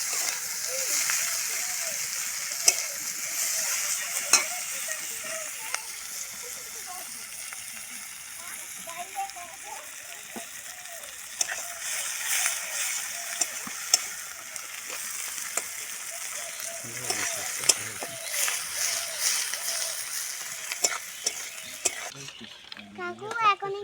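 Onions fry with spices in a pan at an outdoor picnic cooking session, a steady close sizzle with occasional stirring clatters and scrapes, while people talk intermittently over it.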